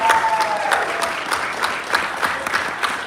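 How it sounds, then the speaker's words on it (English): A church congregation gives a round of applause for a returning young member, steady even clapping that sounds moderately close and fills the short stretch on its own. "Let us give you a round of applause"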